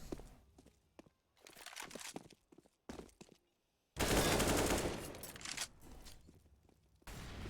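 MP9 submachine gun fire in a Counter-Strike match on the Train map comes in several rapid bursts broken by short gaps, with one long, loud stretch of sustained firing and footstep-like thuds between the bursts.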